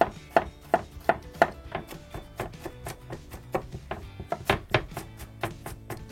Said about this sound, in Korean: 당근을 좀 아주 작게 썰어 줄게요. 그리고 좀 다져줄 거예요.